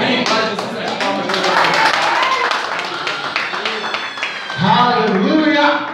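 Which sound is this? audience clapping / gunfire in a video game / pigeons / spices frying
audience clapping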